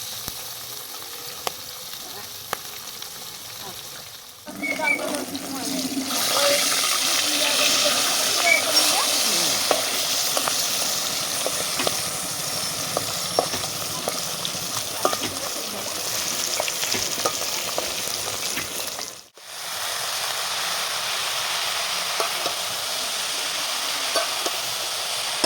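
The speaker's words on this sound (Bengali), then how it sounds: "তো চলো এখন আমি মাছগুলোকে ভেজে নিই" Fish frying in a pan on a gas stove, a loud broad sizzle that starts after a few seconds and holds steady, with faint clicks and a brief dip near the end.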